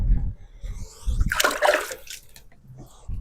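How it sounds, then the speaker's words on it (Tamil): Water poured to lightly rinse a potted lily plant and its red soil at home, a short burst of splashing and trickling in the middle, with brief voice sounds around it. "இப்போ வந்து நம்ம தண்ணி எடுத்துகிட்டு போய் லைட்டாக கழுவிடுவோம்"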